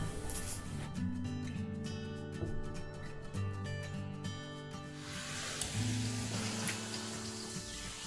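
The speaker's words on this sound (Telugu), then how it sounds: "మనం స్లైస్ చేసుకున్న ఆనియన్స్ కూడా వేసుకొని ఫ్రై చేసుకుందాం" Ginger, garlic and sliced onions fry in oil for chilli paneer, giving a continuous crackling sizzle beneath background music that grows hissier toward the end.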